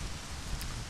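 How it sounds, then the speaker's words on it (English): Rain patters in the video game Majora's Mask, a brief, soft, dense hiss of falling drops. "Oh, it's raining."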